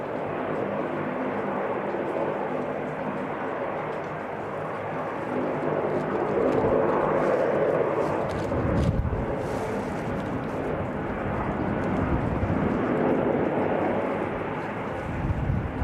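A jet airliner rumbles steadily at Christchurch Airport, a broad continuous roar swelling around the middle and again near the end, heard from a distance outdoors with strong wind buffeting the microphone in cold, snowy conditions.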